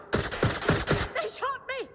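Gunfire in the video game Watch Dogs Legion: a quick burst of three or four sharp shots, loud and close, followed by short tonal electronic chirps and whoops.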